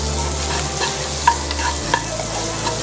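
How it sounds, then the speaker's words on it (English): Pork frying with fresh thyme, marjoram, sage and rosemary in a pan, a steady close sizzle with occasional stirring scrapes and small pops. "creating a sizzle and sweating all our ingredients together to have that flavor running through."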